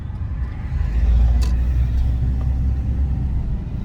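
A 2006 Honda Element with a slipping automatic transmission drives while accelerating: a low steady engine and road rumble droning continuously inside the car, with no talk.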